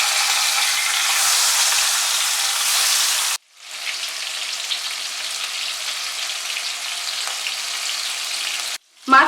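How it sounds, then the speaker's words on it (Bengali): Hilsa fish fries lightly in hot mustard oil, giving a loud, continuous bright sizzle that cuts off abruptly, resumes at a steady crackle for several seconds, then stops again before a brief final burst. "তেলটা ভালো মতো গরম হয়ে গেলে মাছটাকে হালকা করে ভেজে নেব।"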